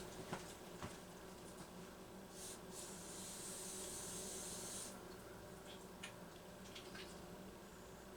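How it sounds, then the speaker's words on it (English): Brake cleaner sprays in a steady aerosol hiss over a Homelite Super XL chainsaw engine. A few short bursts are followed by one long, loud spray lasting several seconds, with small ticks and clicks in a quiet workshop. "Let me spray some brake clean in there and see if I can get some of the oil off."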